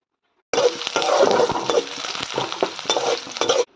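Garlic and green chili sautéing in a hot pan, a steady sizzle with repeated scraping stirs of a spatula, close and fairly loud.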